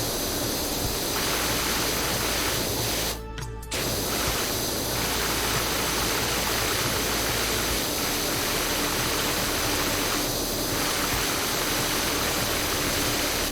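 A pressure washer sprays continuously in the Powerwash Simulator video game, a loud steady hissing rush of water that cuts out briefly once before resuming, with no speech.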